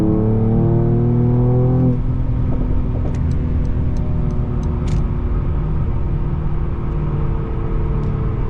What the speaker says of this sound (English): Car bogged down a little bit.